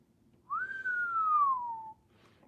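A single clear whistle glides up and then slowly descends, about a second and a half long, alone in a quiet room.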